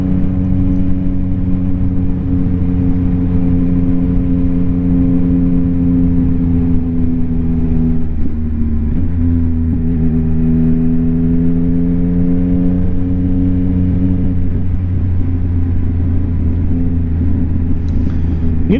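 A 2022 Yamaha XSR900 motorcycle fitted with a Kelpi Custom Moto shorty exhaust, ridden on a cold day: a loud, steady, close-up engine drone with clear harmonic tones that dip and rise as the revs shift.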